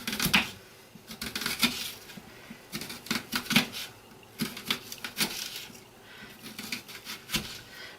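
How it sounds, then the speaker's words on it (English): A knife chops onions thinly on a cutting board: a close, uneven series of sharp taps and clicks, sometimes quick bursts, sometimes spaced, at moderate volume with no talk. "So what I'm going to do is I'm going to cut them very thinly."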